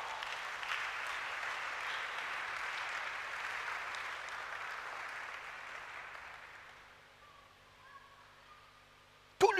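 A church congregation breaks into sustained applause and cheering for the king, steady and fairly loud for several seconds before fading, with a brief sharp noise at the very end.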